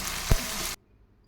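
Marinated country chicken dropped into hot oil, a loud sizzling hiss with a sharp thump as it lands, cutting off abruptly after under a second.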